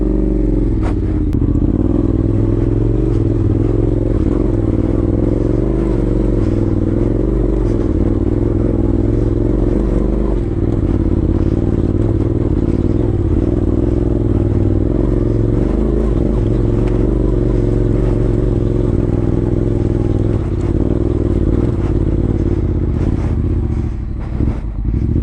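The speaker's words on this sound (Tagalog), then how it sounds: "Ahon ko muna yung motor ko bago ko tulungan si Migs" Motorcycle straining uphill on a dirt trail during a moto adventure ride, a continuous loud engine drone with clattering and scraping throughout, close and unbroken.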